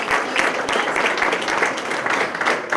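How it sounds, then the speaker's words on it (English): A crowd at a police department promotional ceremony applauds steadily throughout, dense clapping at a constant, fairly loud level with no talking over it. "Let's please give them a round of applause."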